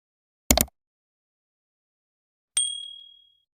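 A short rattling click followed by a single bright bell ding that rings out and fades over about a second, alone in silence.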